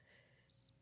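A short crickets chirping sound effect gives three quick, bright pulses in a single brief burst, fairly faint and alone.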